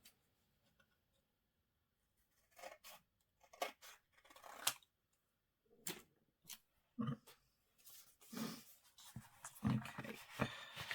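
Scissors snip and slide through the top of a paper folio in several separate bursts, close and fairly quiet, with pauses of near silence between cuts.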